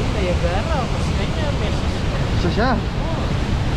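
Athabasca Falls roars as a constant, dense wash of rushing water, loud and unbroken throughout, with people talking over it.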